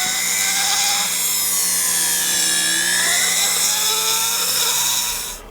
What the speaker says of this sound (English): I'm going to actually take and use a barrel burr, and I'm going to trim out this bezel a little bit.